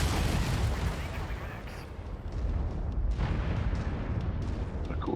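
Missiles slam into a mech in MechWarrior 5, producing dense, rumbling blasts and booms that pound almost continuously, loud and close, with a brief lull midway before the barrage resumes.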